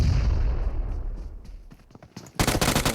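Grenade detonating in the battle royale game PUBG Mobile: a deep, rumbling blast that slowly fades, followed by a sudden burst of rapid gunfire.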